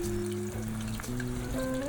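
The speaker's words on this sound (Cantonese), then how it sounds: "然後放隻鴨落去，慢慢炸佢。" A whole duck deep-fries slowly in oil over medium heat at about 160 degrees, giving a soft, steady sizzle and bubbling that runs alone for a couple of seconds.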